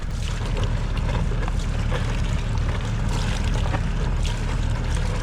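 A Westerbeke marine diesel engine runs aboard a sailboat, a steady low rumbling drone with constant loudness throughout, overlaid by broadband wind and water hiss.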